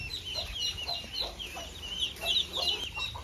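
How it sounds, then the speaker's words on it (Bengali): A hen clucking repeatedly to call ducklings, short rhythmic calls close by with a steady outdoor background hiss and no talk. "মুরগিটা এসে ওদেরকে ডাকতেছে"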